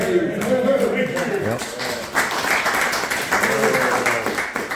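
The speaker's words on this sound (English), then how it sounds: "Let's give Aaron applause" An audience applauds at an evening event with someone, a dense patter of clapping building and holding at moderate level while people talk over it.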